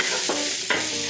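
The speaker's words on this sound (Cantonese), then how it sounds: "用中火嚟爆香啲薑蓉啦" Minced ginger and garlic stir-fried in a hot wok over medium heat with a tablespoon of oil, giving a steady sizzle broken by three quick scraping stirs of the spatula.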